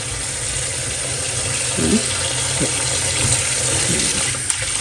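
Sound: grapes washed under running tap water

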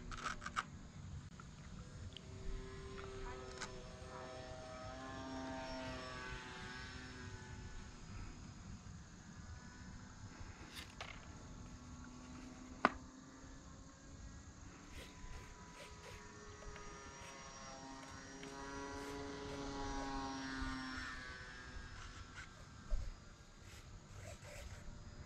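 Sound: propeller engine of Flite Test Bloody Baron RC airplane flying

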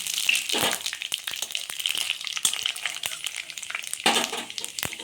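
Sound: panch phoron spices sizzling in hot oil

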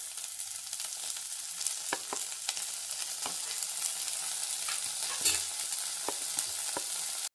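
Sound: sautéing cabbage and potato with onion in a pan

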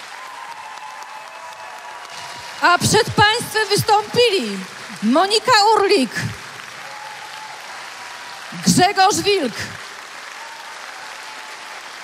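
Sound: concert audience applause

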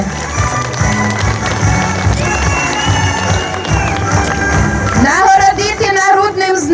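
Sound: crowd applause at town day celebration

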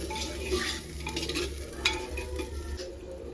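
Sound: sautéing masala for handi chicken in pan

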